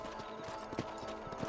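Horse hooves clip-clop at a steady walking pace in Red Dead Redemption, a continuous rhythmic patter heard close and clear, without speech on top.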